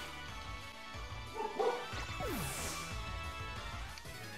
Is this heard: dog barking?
yes